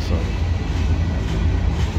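A CSX M372 freight train of old steel-sided boxcars rolls past on the old B&O mainline, a loud, close, continuous low rumble and roar with a single short spoken word over it.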